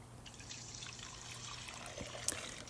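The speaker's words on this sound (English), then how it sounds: "you're just going to drain the nuts into the bag in order to strain it" Homemade almond milk drains through a large nut milk bag with a faint, continuous trickle of liquid. There is a small drip or splash near the end, all very quiet.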